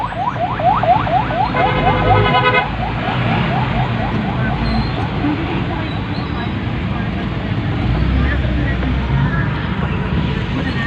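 An ambulance siren wails in rapid rising sweeps for about three seconds as the ambulance maneuvers through congested traffic, followed by steady engine and road noise with distant voices.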